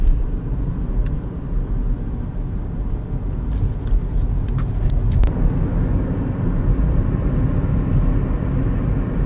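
A car drives along roads in Florida after Hurricane Irma, its engine and tires making a loud, steady low rumble inside the cabin, with a few faint clicks and rattles and no talking.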